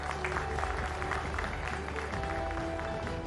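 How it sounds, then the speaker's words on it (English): An audience at a summit panel session gives a round of applause, a continuous moderate patter mixed with a steady hum of venue sound. "Big round of applause for them,"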